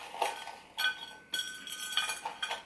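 A metal spoon handled in a quiet room, producing a few light, bright clinks and scrapes in short separate bursts, faint and close, with no talk.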